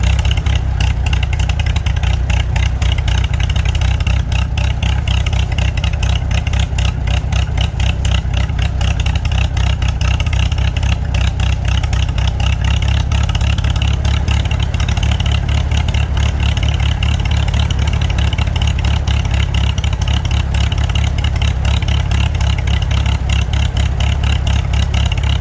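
A 1943 Farmall H tractor engine runs steadily and loud, close by, with an even low-pitched chugging idle that holds the same pace throughout.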